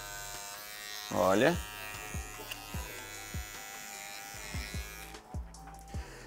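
A steady electric hair clipper buzzes close by while it trims a fade on afro hair, with brief pitch shifts as the blade meets the hair and someone speaking over it.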